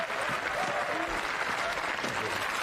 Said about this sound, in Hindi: देवियों और सज्जनों, जोरदार तालियों से स्वागत कीजिए